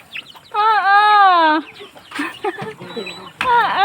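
Chickens cluck and squawk up close as they peck feed from a baby's hand, with a drawn-out rising call, short clucks and another call at the end, plus light voices in the background.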